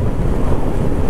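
Steady, heavy wind in Glencoe and Glen Etive, Scotland, roaring and buffeting the microphone, a dense low rumble filling the whole moment with no pauses.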